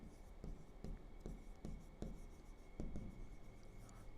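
Pen writing on paper during a conic sections maths lesson, with soft, regular scratchy strokes about every half second, faint and close, under a low steady background hum.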